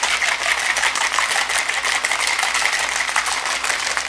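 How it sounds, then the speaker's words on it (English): A cocktail shaker mixing a key lime martini with half and half rattles in a dense continuous rapid shake, close and steady for several seconds. "Now excuse the noise for a minute. We're going to shake it up."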